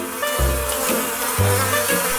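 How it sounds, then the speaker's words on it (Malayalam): A cartoon sound effect of honeybees swarming around a resting character under a tree in an animated animal story, a loud continuous buzzing drone that swells in two bursts, with no speech. "എന്താ ഇത്, തേനീച്ചയോ?"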